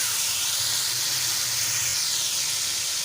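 Onion and tomato sizzle in hot oil as they are added to a well-heated pan, a steady, close hissing crackle that holds evenly throughout with no voices.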